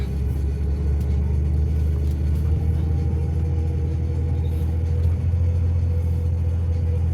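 A vehicle engine labouring while trying to climb a small hill: a steady, loud, low rumbling drone that holds without letting up, with no talking over it.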